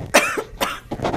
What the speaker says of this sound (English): Almost making it without coughing